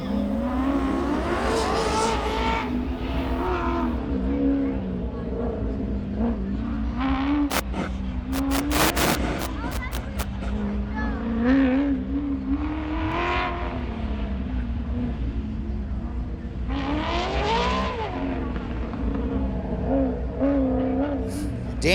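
A race car with a Lingenfelter engine laps a racetrack at the UMI King of the Mountain 2019 event, its engine droning and rising and falling through gear changes for a sustained run, with an announcer talking over it.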